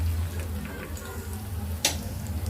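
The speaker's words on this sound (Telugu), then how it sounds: "ఎండుమిర్చి బాగా వేగాలండి." Dried red chillies fry in a pan for Telugu-style pappu tomato curry, giving a soft, steady sizzle with faint crackles and one brief sharp pop.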